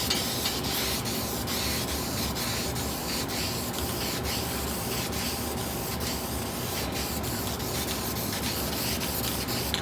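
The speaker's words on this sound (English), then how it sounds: "So I'm going to go ahead and use this can of Rattle Duplicolor on this just to save time." Duplicolor rattle can spraying paint onto a rust repair patch on a car: a close, continuous hiss with faint ticking, unbroken for about ten seconds.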